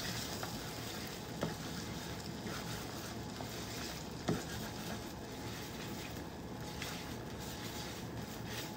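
Steady, quiet sizzling of an omelette frying in a hot pan, with occasional faint clicks and scrapes of stirring.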